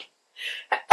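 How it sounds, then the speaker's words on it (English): A person sneezes: a couple of short sharp inhales build up, then a single loud burst at the very end. "Am I going to sneeze?"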